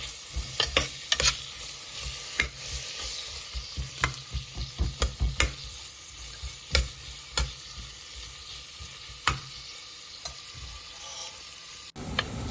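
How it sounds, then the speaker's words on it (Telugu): Sliced onions fry in hot oil for an egg biryani, a steady close sizzle broken by repeated sharp clinks and scrapes of a spoon stirring the pan, with a brief lull near the end. "ఆనియన్స్ బ్రౌనిష్ వచ్చేంత వరకు మనము ఆనియన్స్ని వేయించుకోవాలి"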